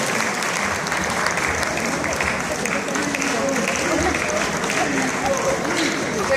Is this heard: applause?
yes